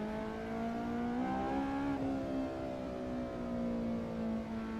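A car engine with VTEC in Assetto Corsa EVO holds a steady tonal drone that climbs in pitch, shifts briefly, then settles and hums on evenly with no voices over it.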